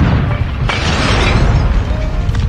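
A bomb blast in Call of Duty Mobile, a loud, close, broad rumbling burst that begins sharply and holds as sustained roaring noise, with no voices over it.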